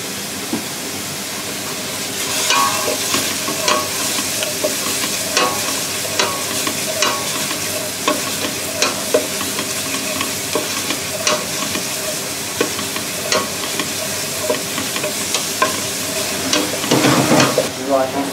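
Oil sizzles in a pan in a restaurant kitchen as a French chef starts a risotto with chanterelles, onions and arborio rice. A steady frying hiss runs throughout, broken by repeated scraping taps of stirring and a louder burst of sizzle near the end.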